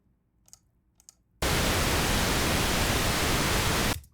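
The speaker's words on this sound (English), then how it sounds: "Because it's a random noise, I can get away with these quick loops" Looped random noise sample for game sound design, a loud flat hiss that switches on abruptly and holds steady for about two and a half seconds before cutting off, following a few faint clicks.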